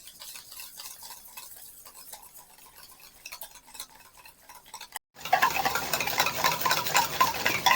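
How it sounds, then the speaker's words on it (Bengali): Butter being whisked in a bowl, soft scraping and stirring strokes at first, then a sudden louder, denser stretch of rapid whisking against the bowl in the last few seconds, with no talking. "একটা হুইক্সের সাহায্যে প্রথমে একটুখানি হুইক্স করে নেব।"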